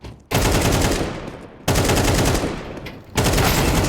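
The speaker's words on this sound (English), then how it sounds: "Shot after shot" Gunfire in the Counter-Strike 2 video game erupts in three loud, sustained bursts of rapid automatic fire, each cutting in abruptly and fading slightly before the next volley.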